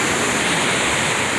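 Ocean waves washing onto a beach in the Dominican Republic, a steady, loud broadband roar of surf that continues without a break and with no voices.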